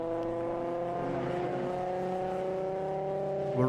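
Race cars lap a circuit during a WA Sporting Car Club championship motorsport race, with a loud sustained engine drone that climbs slowly in pitch and a louder surge at the end as another car approaches.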